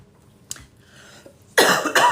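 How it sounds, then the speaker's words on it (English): A man coughs indoors: a faint catch, then a heavier throat-clearing cough and a loud rough cough near the end, close to the listener and without talking. "It usually only takes a few minutes for my cough to settle down when I start talking."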